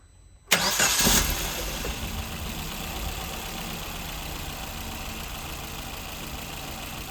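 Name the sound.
car engine starting and idling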